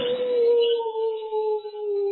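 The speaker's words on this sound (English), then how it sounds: "A dog." A single long, sustained dog howl, steady and mournful, slowly falling in pitch and fading slightly toward the end, heard alone without any talking.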